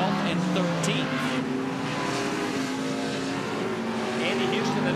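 NASCAR Craftsman trucks race at Portland International Raceway in 1999, including Andy Houston's number 60 Cat Rental Chevrolet, with a steady, loud engine drone and shifting pitch throughout, under a commentator's voice.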